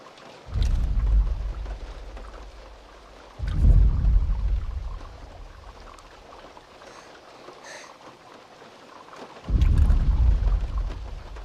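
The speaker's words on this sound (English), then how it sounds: "The ominous reverberant thud that preceded the reveal of the T-Rex in Jurassic Park." Three deep, booming thuds of an approaching T-Rex from Jurassic Park, spaced a few seconds apart, each heavy low impact ringing out with a long reverberant tail before fading into quiet.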